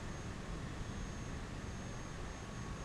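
An airplane in Microsoft Flight Simulator taxis to park at an airport, giving a low, steady engine rumble and broadband hiss that holds constant throughout, with no talking.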